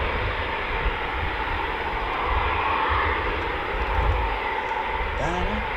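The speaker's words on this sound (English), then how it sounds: "So that's 8 Typhoons airborne currently" Eurofighter Typhoon FGR4 jets flying at RAF Coningsby during an evening display, a steady, loud roaring engine rumble that lingers throughout, distant and continuous.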